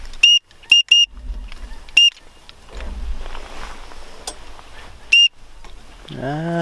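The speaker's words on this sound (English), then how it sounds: "Keep hitting that whistle, dude." A hunting whistle blown in short, sharp bursts on public land, about five shrill blasts in uneven rhythm with quiet gaps, loud and close, followed near the end by a brief lower, wavering call.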